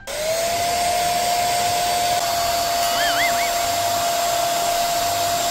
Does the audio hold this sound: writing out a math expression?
no